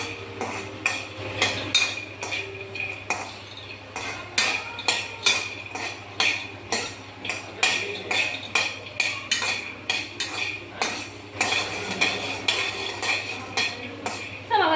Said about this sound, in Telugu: గుడ్డు అనేది వేయిస్తే కొంచెం టేస్ట్ వస్తుంది కాబట్టి వేయిస్తున్నా